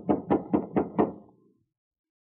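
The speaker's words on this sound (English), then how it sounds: "Going to bust right in or rap on the door?" Five sharp raps on a door in an old radio drama, evenly spaced and close, with a short ringing decay after the last one before a brief sound at the very end.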